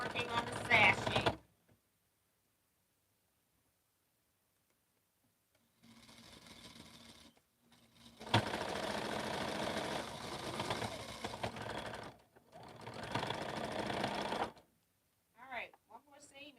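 A sewing machine stitches a quilt seam in several loud bursts of rapid mechanical whirring separated by short silent pauses, with a final short stutter of stitches.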